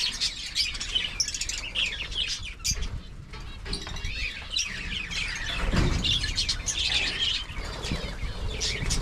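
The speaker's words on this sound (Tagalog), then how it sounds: "Yung mga parakit natin, oh." Many parakeets chirp and twitter together in a busy, continuous chorus, with wing flutters mixed in, moderately close and with no voices over them.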